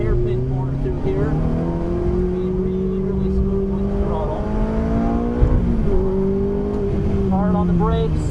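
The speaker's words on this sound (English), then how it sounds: "Downshifting into second gear for a hairpin corner through here." A Ferrari F430 engine on a race track howls loudly and continuously, its pitch dipping and surging as it downshifts for a hairpin corner, with someone talking over it throughout.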